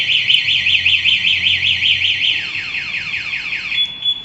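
An installed anti-theft alarm on a Yamaha Grand Filano sounds nearby: a rapid warbling electronic siren repeating in quick sweeps, then slower chirps, loud and continuous.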